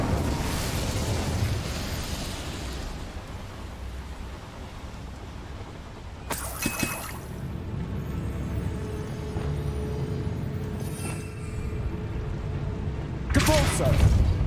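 Incendio fire spell cast in Hogwarts Legacy: two brief, crackling bursts of flame rising over a steady background hiss and rumble, the first near the middle and the second near the end.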